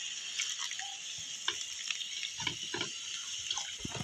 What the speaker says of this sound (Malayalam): നമുക്കൊന്ന് വെള്ളം ഒഴിക്കാം